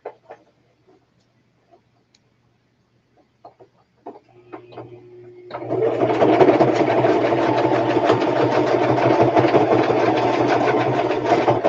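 After a few faint ticks and clicks, a sewing machine starts up and stitches a prototype, a steady close rhythmic whirring that runs on to the end without speech.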